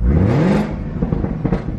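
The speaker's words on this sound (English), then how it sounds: "I'm gonna rev this up." A 2018 Camaro ZL1 V8 engine, warmed up, revs up with a rising roar, then settles into a rough, throbbing idle, loud and close.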